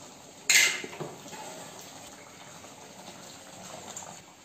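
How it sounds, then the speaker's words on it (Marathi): Water is poured into a cooking pot holding ground masala for a village-style chicken curry. A sharp splash at the start fades into a soft trickle and low kitchen noise, with no talk. "हे भांड्यामध्ये पाणी टाकून घ्यायचं"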